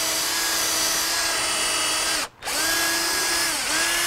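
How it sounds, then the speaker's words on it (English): Power drill boring lengthwise through a car suspension bushing, a steady loud whine with a brief cut-out midway and a slight dip near the end, no talking. "We've drilled through the length of the bushing"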